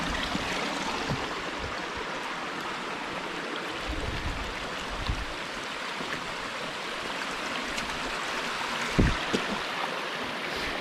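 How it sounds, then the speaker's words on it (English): Rushing water from waterfalls in the Wichita Mountains wilderness, a steady broadband roar filling the whole clip with no talk, a few faint knocks near the end. "Some nice waterfalls up here."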